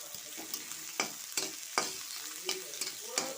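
Whole cumin, garlic and onion frying in oil in a pan, a soft sizzle broken by repeated sharp scrapes and taps of a spatula stirring, close and fairly quiet, no talking.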